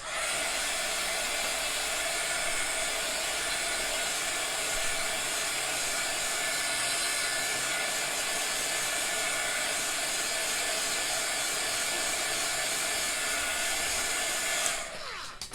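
A hair dryer blows a steady, close, loud whooshing hiss over a chalk paste watercolour craft for about fifteen seconds, then cuts off at the end.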